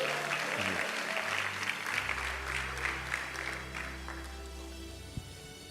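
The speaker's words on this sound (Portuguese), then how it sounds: "Então assenta aplaudindo o nome de Jesus" A church congregation applauds, with dense, sustained clapping that swells and then slowly thins out, accompanied by a low held tone beneath it.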